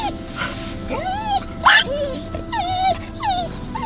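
Dogs just let out of a vehicle after a long road trip yip, whimper and whine excitedly in a series of rising, wavering cries, close and fairly loud, with a person talking faintly underneath.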